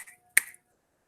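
One crisp, close finger snap rings out alone in a quiet room, preceded by a faint softer tap.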